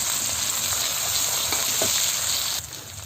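Chopped green chillies hit hot oil with a dense, loud hiss that holds steady, then eases slightly near the end. Sizzle from a pan of khichdi in progress, close up, with no talking.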